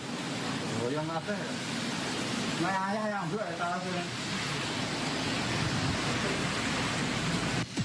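Heavy rain and tornado-strength winds lashing Ponggok district in Blitar, East Java, make a dense, steady roar throughout, with brief bursts of speech over it.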